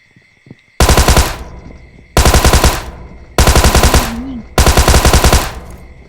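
Automatic gunfire in the video game PUBG comes in four loud, close bursts of rapid shots, each lasting about a second, separated by short pauses.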